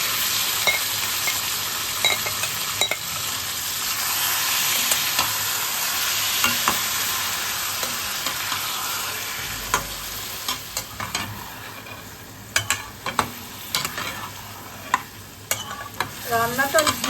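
Marinated chicken with onions fries in a pan for a mutton korma style dish, a steady broad sizzle under occasional utensil taps, giving way later to sharper, irregular scraping and clinking of stirring, close by.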